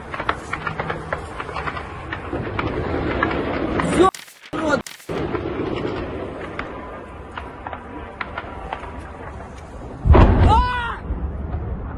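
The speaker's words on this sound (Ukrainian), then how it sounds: "Це дрони стріляють." Several sharp bangs of gunfire aimed at attacking Shahed drones ring out amid a noisy outdoor background, with a loud burst of shots near the end and distant booms between.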